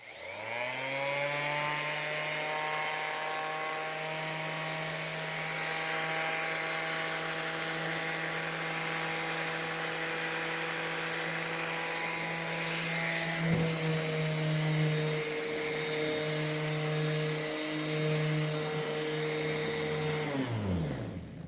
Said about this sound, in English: This little pad sander has been around for quite a while.